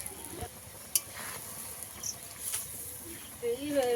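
Fried prawns slipped into a bubbling malai curry gravy: a faint, low simmering sizzle with occasional stirring clinks and scrapes, under brief quiet talk.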